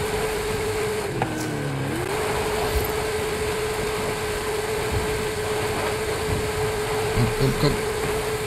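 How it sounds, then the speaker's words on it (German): Car engine in the racing video game Forza Horizon 5, a steady strained drone with a brief pitch dip and rise, running continuously while someone speaks over it. "wenn ich das so höre, der arme Motor."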